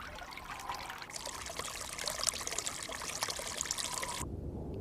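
Spring meltwater from high Rocky Mountain snowfields trickles and splashes along a small stream, a continuous bright babbling that stops abruptly near the end, close and moderately loud with no voices.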